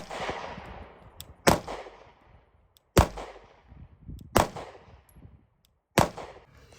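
Four spaced pistol shots from a handgun fitted with a red dot sight, each a sharp loud crack followed by a short echo, outdoors with pauses of about one and a half seconds between them.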